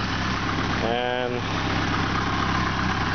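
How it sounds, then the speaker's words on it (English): An Opel GT engine fitted with MaxxECU and a 60 millimeter throttle idles smoothly with a steady, even low rumble, while someone briefly speaks over it. "this is one heck of a nice smooth running engine"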